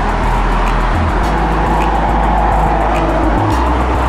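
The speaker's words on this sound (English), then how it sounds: "Sorry about the traffic." Steady road traffic at a bus stop outdoors, with a continuous loud rumble of passing cars and heavier vehicles and low engine drone swelling as vehicles go by, no talking.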